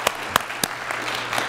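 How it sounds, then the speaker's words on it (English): A church congregation claps briefly at a morning service, a few sharp distinct claps up front followed by looser, softer scattered clapping that quickly fades. "Give yourself an applause."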